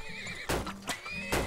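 Horse neighing in the video game Turmoil: two or three short, bright whinnies burst out over a steady game background, each loud and close, with faint clip-clop hooves between.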